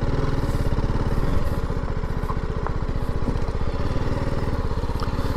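A light motorcycle rides along a narrow country lane in Devon, its engine a steady, close, buzzing drone with fairly even throttle throughout and no talking.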